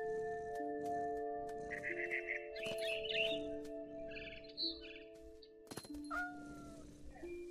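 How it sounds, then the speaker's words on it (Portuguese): Small bird chirping in the video game What Remains of Edith Finch, with short high tweets and trills over steady synthetic game tones and music, fairly faint and intermittent. "Cadê o passarinho?"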